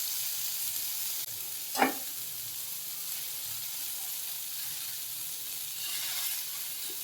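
Paneer tikka pieces sizzle on a tawa over moderate heat, a soft, even hiss with a single sharp clatter as the pieces are moved, otherwise steady and low.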